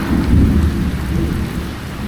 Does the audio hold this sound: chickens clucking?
no